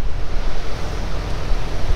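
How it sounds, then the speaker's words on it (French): Strong wind gusts across an open farm field during winter barley sowing, buffeting the microphone with a loud, continuous, surging roar and no speech. "je vais me mettre un peu à l'abri du vent"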